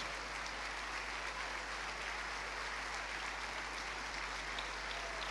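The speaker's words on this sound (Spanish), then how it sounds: "Póngase de pie y den un fuerte aplauso al Rey ahora" Faint, steady applause from a congregation at a church ministerial congress, a continuous wash of many hands clapping over a low hum, distant and unbroken.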